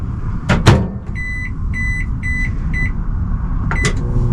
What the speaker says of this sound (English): This microwave is drawing close to 100 amps right now.